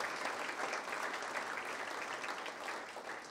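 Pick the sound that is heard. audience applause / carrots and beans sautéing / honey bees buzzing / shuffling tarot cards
audience applause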